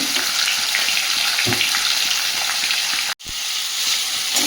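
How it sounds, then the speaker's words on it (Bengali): Prawns fry in a pan with a loud, steady hiss and crackle up close, briefly cut off by a short gap before the sizzle resumes; no one speaks. "এদিকে চিংড়ি মাছটা খুব ভালো ভাজা হয়ে গেছে"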